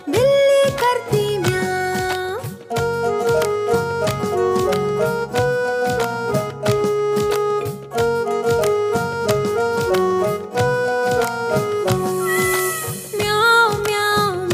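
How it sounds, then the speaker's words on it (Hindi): Meow-like cat calls repeat through a bouncy children's song with continuous melodic backing music and sung vocals, the calls steady and prominent throughout. "बिल्ली करती म्याओ"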